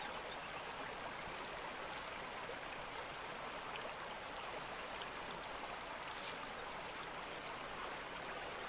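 Water sloshing and swirling in a gold pan as sediment is agitated, a steady close wash of watery noise throughout with no talking.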